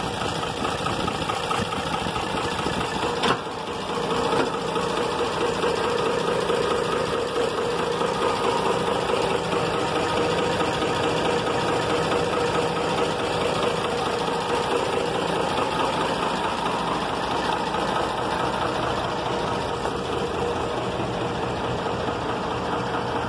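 A Renault 155-54 tractor in near-new, original condition idles steadily, a loud, close, continuous diesel rumble with an even mechanical hum and no speech over it.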